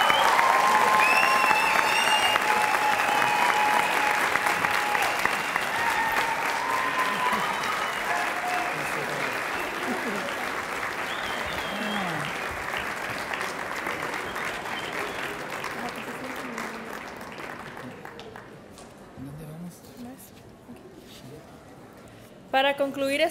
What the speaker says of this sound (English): let's give a big round of applause for our Raza graduates of